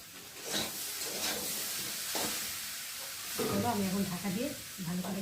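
Soybean chunks with potato, pointed gourd and other vegetables fry in spices in a pan, giving a soft, uneven sizzle with scraping stirs, while a voice talks over it in the second half.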